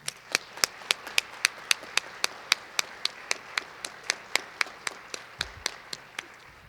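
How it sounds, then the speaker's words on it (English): Sparse, evenly spaced claps from a small audience at a state poetry recitation final, honoring judges and officials; about twenty distinct hand claps in a steady rhythm, fairly faint and alone without talk. "Now let's give our judges and officials a round of applause."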